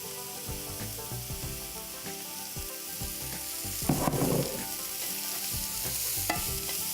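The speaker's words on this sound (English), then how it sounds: "So we'll do that, and then we'll let this roast and do its thing." Food sautéing in oil in a pan, a steady close sizzle with repeated stirring scrapes throughout and a louder burst of spattering around four seconds, with no talking.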